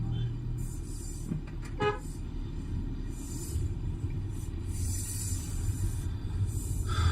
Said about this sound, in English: Now wait for the vehicles to pass